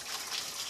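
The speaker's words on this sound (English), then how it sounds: "Right, watering my tomato plants again." Water gushing steadily from a hose or can over tomato plants on an allotment, a continuous hissing splash, close and even for under a second with no talking.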